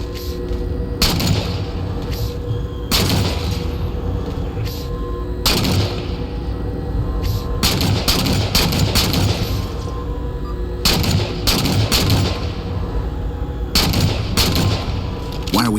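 Gunfire crackles through a Halo 4 battle, repeated loud bursts and machine-gun rattles at irregular intervals over a steady rumbling background, with no voices.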